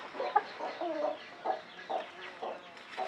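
Hens in a composting chicken coop with a dirt floor, clucking in repeated short, close bursts with soft murmuring calls between, lively and uneven in rhythm, with no talk.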